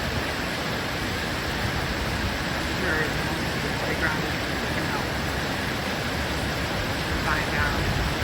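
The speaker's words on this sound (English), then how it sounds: "creek raging along like an absolute mad river." A flooded mountain creek in Montreat, swollen by Hurricane Helene, rushes past in a dense, constant roar of churning water, near and loud, while a person speaks briefly over it.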